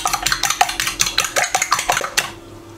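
Rapid rhythmic clinks of a utensil beating three eggs against a bowl, about a dozen quick metallic taps close up, trailing off into quiet.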